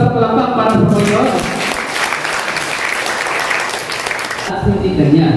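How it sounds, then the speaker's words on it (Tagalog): Applause from a church congregation during a worship service, dense and steady clapping filling the room for several seconds, with voices heard at the start and end. "Isa mo lang sa palakpak para sa Panginoon."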